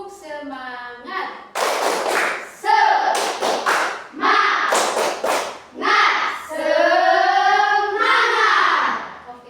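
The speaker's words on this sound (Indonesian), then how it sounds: "Ibu mengajak kalian untuk berdiri dengan melakukan tepuk tangan" A classroom of standing children claps a rhythmic spirit clap in sharp bursts of patterned hand claps, interspersed with children's chanting and a teacher's voice leading the routine.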